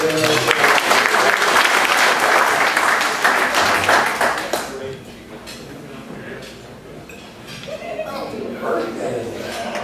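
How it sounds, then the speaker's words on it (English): A meeting audience breaks into loud, dense applause that runs for several seconds, then tapers off into quieter room noise with faint clinks and murmured voices. "Let's have a round of applause for this."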